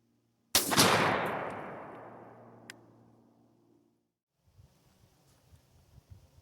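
A single loud blast from a Stoeger M3500 shotgun firing a 3.5-inch Longbeard XR #6 shell through a Hevi-Shot choke, shooting at a target 40 yards out. The report decays over about three seconds, followed by faint outdoor wind and rustling.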